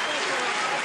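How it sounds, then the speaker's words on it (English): Crowd at an MMA fight in Sweden cheering and applauding, a dense, loud wash of noise filling the whole short moment without a break. "The crowd here in Sweden beginning to rally behind their fighter"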